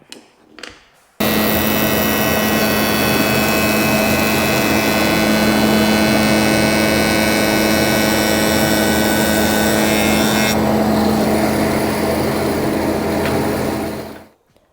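A spindle sander shapes a curve in scrap wood for a child's chair, its motor starting abruptly and running as a loud steady whine with a grinding edge, then tapering off as it stops.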